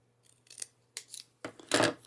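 Scissors snip through paper for an album in four separate cuts, close and crisp, the last cut the longest and loudest, with no speech.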